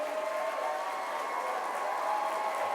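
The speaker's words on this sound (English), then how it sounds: "If you would all give them a round of applause" A crowd applauds steadily, a soft, continuous patter of clapping heard from a distance.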